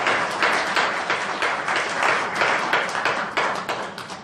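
Church congregation applauding graduates and new students during a thanksgiving service, steady close clapping from a gathered group with a slightly pulsing rhythm throughout.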